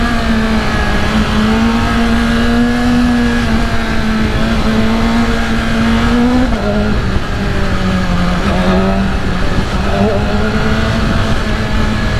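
A motorcycle fitted with a replacement muffler rides through dense city traffic, its loud steady engine drone shifting pitch as it weaves between cars, with a voice talking briefly over it.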